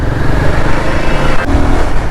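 A motorbike ridden through heavy, jammed road traffic in Okhla, giving a steady, close engine drone mixed with surrounding vehicle noise for the whole stretch, with no talking.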